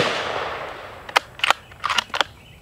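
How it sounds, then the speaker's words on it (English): Suppressed rifle fire with subsonic ammunition at an AR500 steel target: a fading noise, then several sharp, short cracks spaced irregularly over about a second, with a quick follow-up, moderately loud and free of speech. "Let's shoot it, shall we?"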